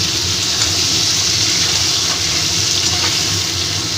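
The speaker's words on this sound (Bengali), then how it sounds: "পটলগুলোকে আমি ভালো করে এবার ভেজে নিই লাল লাল করে ভেজে নিই" Pointed gourd and potato pieces fry together in hot oil for a Bengali niramish muri ghonto, making a loud, dense, continuous sizzle up close with no voices.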